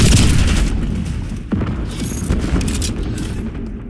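Call of Duty: Black Ops 6 gunfire with booming reports, a heavy blast at the start followed by a few scattered, fading shots.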